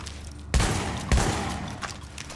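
Gunfire from The Division video game, a Classified Lone Star build, heard as two sharp, loud bursts about half a second apart over a sustained noisy tail, with no talking.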